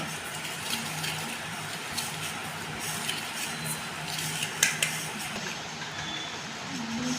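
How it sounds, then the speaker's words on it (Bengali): Sugar and half a cup of white oil are blended together for an oats cake batter, producing a continuous close mechanical whir with a few sharp clinks near the middle. "চিনিটা তেলটা একসঙ্গে ব্লেন্ড করে নেব"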